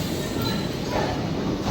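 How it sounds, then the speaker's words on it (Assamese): The Nagaland Express arrives at a station, its low, steady rumble of rolling carriages filling the brief moment with a continuous, moderately loud wash of rail noise and no voices. "এইফালে ট্ৰেইন আহিছে, তো তাকে দুইটাই ৰখি আছোঁ।"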